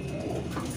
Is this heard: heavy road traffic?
no